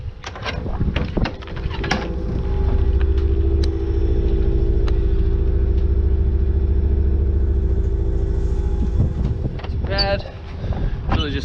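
Electric boat motor on a test boat heard from below deck, a steady low hum and vibration running loud through the middle of the clip, with brief clunks and knocks at the start and end.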